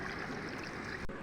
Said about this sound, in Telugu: 1 గ్లాసు వాటర్ పోసుకోవాలి.